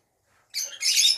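Pet lovebirds or cockatiels kept with their chicks in cages let out harsh, close squawks after a brief quiet moment, rising into a continuous raspy screech.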